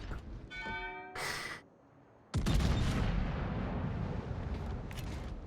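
Heavy naval gunfire from a battleship's rear turrets, the Republic, firing high-explosive shells in World of Warships: a loud booming blast cuts in sharply after a brief lull, then rolls on as a sustained rumbling roar.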